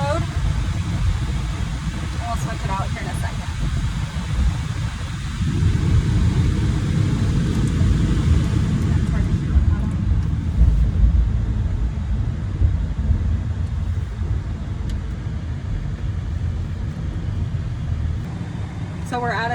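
A 2016 Lamborghini Huracan LP 580-2 driving in standard mode, a steady low engine and road drone heard from inside the cabin, continuous throughout with no talk.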